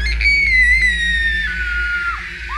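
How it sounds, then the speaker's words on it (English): A long, high scream in a hospital scene from an audio drama rises and slowly falls over a low hum, followed by shorter cries. "Running toward the screams, Steve's stomach began to sink as he followed the sound."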